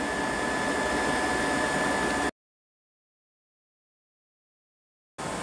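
A vacuum pump drawing down the transfer leg of an Oxford 700 Cryostream gives a loud, steady rushing hiss, then cuts out completely for about three seconds before starting up again.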